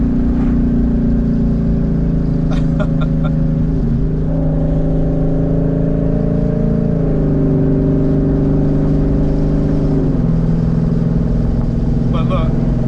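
Twin turbo Mustang engine heard from inside while driving uphill, with a loud, steady drone whose pitch steps down and up through gear changes and downshifts.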